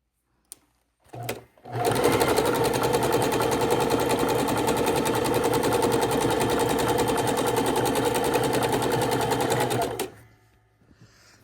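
A sewing machine stitches a quilted raw-edge appliqué scrap table runner, running loud and steady for about eight seconds after a couple of brief starts, then stopping.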